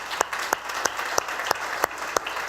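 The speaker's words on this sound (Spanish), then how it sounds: "El Señor merece un aplauso." A church congregation applauds, with a quick, evenly spaced run of sharp claps that is loud and close, and no voices over it.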